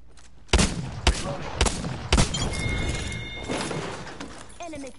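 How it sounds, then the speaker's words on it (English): Apex Legends gunfire breaks out in several sharp, loud bursts amid game noise, followed by a denser stretch of shooting and clatter, with faint voice lines mixed in. "Enemies are shooting at me."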